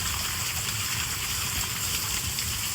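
Water gushes at full pressure from a repaired farm motor pump, a steady close rushing roar with no pause and no voices.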